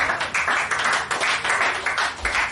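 A church congregation clapping, a rapid, dense patter of many hands in a lively rhythm that fills the room, loud and close with no clear talking.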